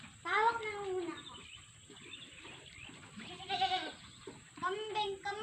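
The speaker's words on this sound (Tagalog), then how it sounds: "Kambing, kambing, kambing." Goats on a ranch bleat repeatedly nearby, wavering cries coming one after another, with people talking quietly around them.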